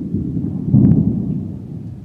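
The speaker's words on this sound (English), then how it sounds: "The thunder has been rolling for most of the day." Low, steady rumble of thunder rolling through rain at a riverside campsite on a solo canoe trip, swelling slightly midway with a faint patter over a continuous dull roar.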